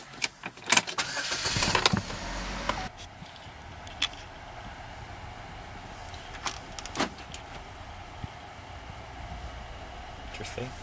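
A 2012 Chevy Malibu LT engine cranking and catching with a loud burst, then settling into a low, steady idle, with a few sharp clicks and knocks over the hum.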